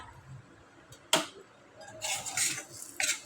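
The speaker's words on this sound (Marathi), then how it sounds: "आता आपण हे हलवून घेणार आहोत" Spoon scrapes and clinks against a pan while dabeli masala mixture is stirred, Mumbai street style, heard as a sharp knock followed by a few bright scraping strokes, close and without talking.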